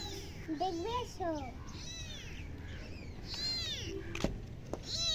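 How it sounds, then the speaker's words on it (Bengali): A kitten kept in a box meows repeatedly, with several rising and falling cries close by, while a voice talks alongside. "এই ক্যাট রেজাকে ডাকছে"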